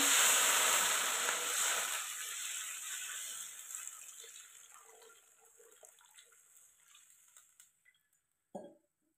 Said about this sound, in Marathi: मी पाणी टाकून घेते.